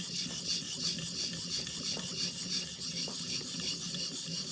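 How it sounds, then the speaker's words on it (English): A blade being sharpened on a whetstone as the burr comes off, heard as close, steady rasping strokes that scrape back and forth on the stone with no talking. "Hear that burr coming off now."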